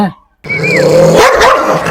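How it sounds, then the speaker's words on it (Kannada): A dog barks and yips several times in close succession, fairly loud and near, after a brief silent gap. "ನೋಡ್ಲಿ ನಾಯಿ ಅದವನ್ ಒಳಗ"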